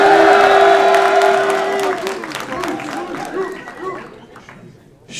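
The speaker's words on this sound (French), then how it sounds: "sous vos applaudissements" A crowd at a rap battle in Lyon cheers, whoops and claps, loud at first and then fading into scattered claps and chatter, with voices mixed throughout.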